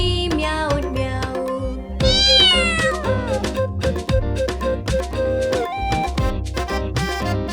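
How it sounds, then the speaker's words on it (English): A cat meowing several times within bright, rhythmic children's music, the meows rising and falling in short, loud, close calls. "The kitty came and woke me up, she meowed, meow."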